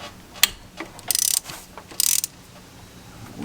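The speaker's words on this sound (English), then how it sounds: "We'll just loosen up the AC bracket." A ratchet clicks in short rapid runs, close and crisp, as it loosens the AC bracket on a Ford 7.3 Powerstroke diesel engine.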